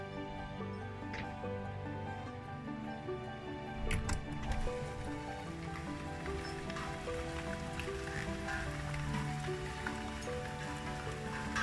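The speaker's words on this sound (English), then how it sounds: "Can you hear the rain?" Steady rain patters and drips across surfaces, a dense continuous hiss with occasional louder drops, no voices.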